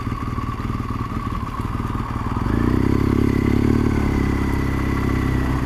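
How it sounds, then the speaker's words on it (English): BMW R1200 GS motorcycle out on a ride near Hampton Court, a close engine drone with wind rush that swells as the bike accelerates partway through, then holds a louder, steady throttle. "Sort of forgotten how brilliant the old BMW GS is."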